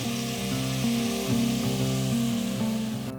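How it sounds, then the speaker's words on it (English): Freshly cut vegetables sizzle in about 50 milliliters of hot oil in a pan, a steady bright hiss running throughout with a low tonal hum underneath and no voices. "To the pan we'll add 50 milliliters of oil, let that come up to temperature and add our fresh cut vegetables"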